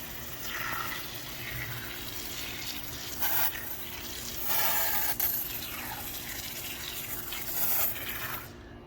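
A Marolex Axel 2000 foaming sprayer sprays diluted wheel cleaner in repeated bursts of wet, hissing spray over a steady pump-like hum, close and moderately loud, with no voices.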